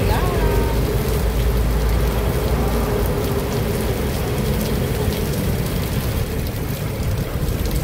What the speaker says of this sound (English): So much rain guys.